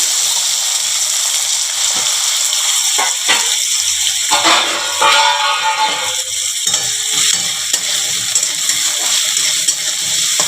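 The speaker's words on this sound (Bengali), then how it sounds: "দেখো চলো আমার তেলটা হয়ে গেছে, আমি আলুটা ভেজে নিই।" Potatoes fry in hot oil with a loud, steady crackling hiss, broken by a few sharper pops and scraping movements partway through, close and continuous with no one speaking.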